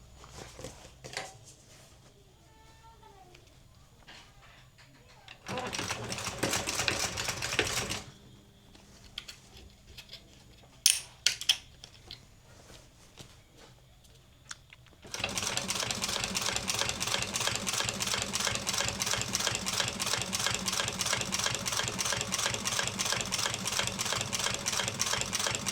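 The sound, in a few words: sewing machine stitching a French seam on a vinyl door panel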